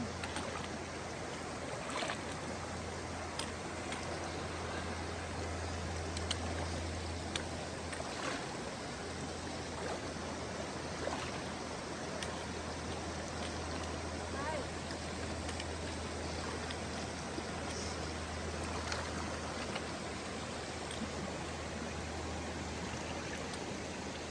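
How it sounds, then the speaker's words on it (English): A cold river on the Appalachian Trail rushes steadily as a hiker wades across, a continuous broadband water wash with occasional faint splashes, no talking. "boom, river crossing."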